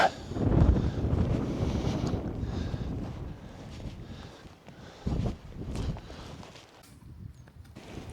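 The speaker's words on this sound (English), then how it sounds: "Well, currently the wind's fairly high. I'm saying high, it's high for this tent. It's around about 20 miles an hour" Strong wind of about 15 to 20 miles an hour buffeting a trekking pole tent, a steady rushing roar with heavy gusts hitting the microphone and fabric, surging and easing in waves.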